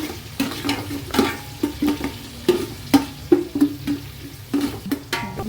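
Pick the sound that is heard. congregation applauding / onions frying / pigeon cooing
onions frying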